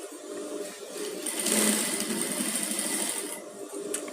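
Sewing machine stitching close beside a dress zipper on a padded gown, a steady whirring run that swells in the middle, then eases off and pauses near the end, with no voices over it.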